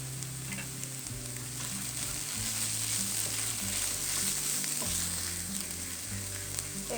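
Vegetables for a chicken sandwich filling fry in a pan, making a continuous hiss of sizzling oil with soft, periodic stirring sounds, steady and moderately quiet, nobody speaking.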